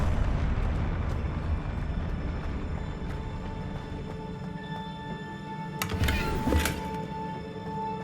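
The Confringo fire spell goes off in Hogwarts Legacy with a crackling burst and a short pair of sharp flares, set against a constant low game rumble and a humming background drone.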